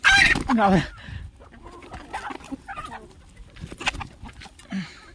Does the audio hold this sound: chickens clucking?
yes